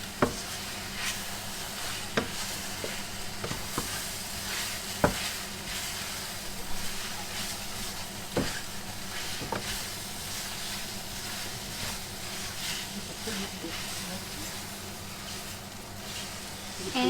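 Food stir-frying in a pan with soy sauce added, sizzling steadily and hissing throughout, with repeated clacks and scrapes of a utensil stirring against the pan, close and fairly loud.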